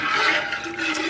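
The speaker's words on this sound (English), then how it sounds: "I'm just going to add water." Tap water runs into a pot for homemade chicken noodle soup, a close, steady rushing pour with a faint rising fill tone and no talk.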